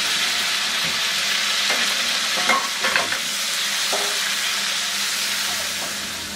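Six pricked eggs frying in hot salted oil make a dense, loud, hissing sizzle that runs unbroken, close up, with a few faint clinks midway.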